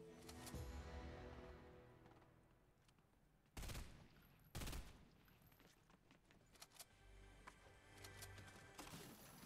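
Fortnite gunfire in a Chapter 1 match: two sharp, loud bursts stand out around the middle, with scattered smaller shots and rattling before and after, over a busy game soundscape.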